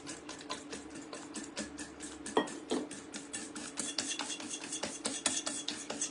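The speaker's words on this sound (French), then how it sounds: "Donc ici, je bats mes œufs. J'y ajoute mon sucre." Eggs are beaten with sugar in a bowl, a quick steady scraping, clinking whisk rhythm that stays close and moderately quiet throughout, with no talking.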